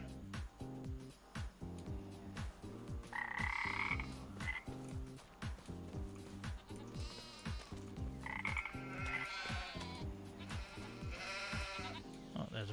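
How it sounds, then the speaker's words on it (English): A frog croaks repeatedly in the Farming Simulator 25 countryside, a rhythmic, fairly close series of croaks running throughout, with occasional higher bleating-like calls mixed in over ambient game sound. "Oh, there's a frog, look."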